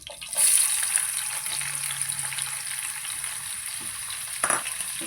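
Chopped onions frying in a pan with cardamom, a constant close sizzle with a bright high hiss and a faint clink near the end, no voices.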